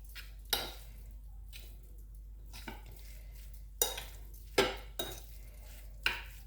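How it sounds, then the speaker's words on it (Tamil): Fish cutlet mixture being mixed by hand in a bowl after lemon juice is added, giving a handful of separate soft squishy thumps and scrapes with quiet pauses between them. "நான் வந்து கொஞ்சமாக தேசிக்காய் புளி சேர்க்க போகிறேன். வடிவாக கலந்து விடுவோம்."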